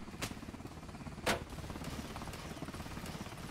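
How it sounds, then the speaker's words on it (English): Gunfire in The Conquerors 3 during a helicopter rescue mission: a few sharp reports against a dense, constant battle din, with no voices. "the amount of gunfire coming at us is not safe"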